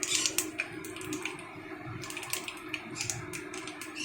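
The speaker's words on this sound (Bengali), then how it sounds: "সর্ষেগুলো বড্ড ছিটকাচ্ছে" Mustard seeds spattering in hot oil, the pan about to receive salt and prawns, make quiet, rapid crackling pops scattered irregularly over a soft frying hiss.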